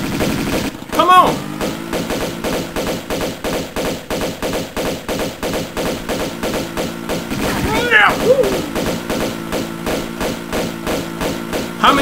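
Rapid gunfire rattles in Tomb Raider 2 Remastered, a steady rhythmic stream of shots lasting the whole stretch with a couple of sharper accents, a voice speaking over it.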